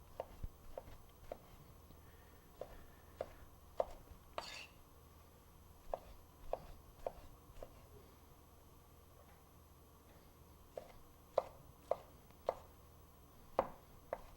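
A kitchen knife dicing tomato on a cutting board, quiet, irregular taps and knocks of the blade spaced through the clip, close and faint with no talk.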